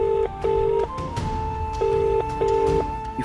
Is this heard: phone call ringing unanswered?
yes